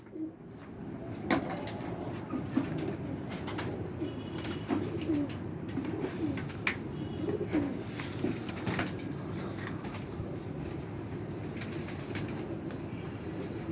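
Rampuri pigeons coo softly and repeatedly, close by, with occasional wing flaps and clicks against a steady low background.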